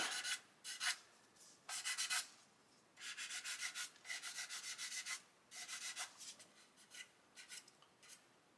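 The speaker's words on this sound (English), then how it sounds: "I can come along with a sponge and sand into that wing root" Sanding sponge rubbed into the wing root of a 1/35 Ju 87 Stuka plastic model, giving soft, hissing scratchy strokes in short bursts with brief pauses between them, close and fairly quiet.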